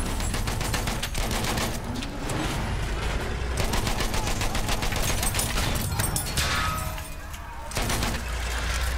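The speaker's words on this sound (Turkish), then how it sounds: "Düşman makinalı tüfeği." Enemy machine gun fire in the video game Battlefield 1, with rapid, dense bursts of gunshots continuing almost throughout, briefly pausing near the end amid battlefield noise.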